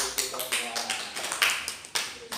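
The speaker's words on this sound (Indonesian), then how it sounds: "Oke, terima kasih, tepuk tangan." A few scattered, uneven claps from a small group of women at a family-finance training session, close and fairly light, mixed with people talking.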